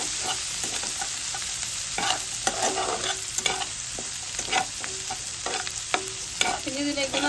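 Fried rice being stirred in a hot pan, with repeated scraping strokes of a spatula over a steady frying sizzle, close and fairly loud, no talk.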